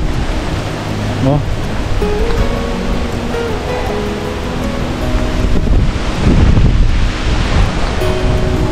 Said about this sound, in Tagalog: Medyo malakas kasi yung hangin.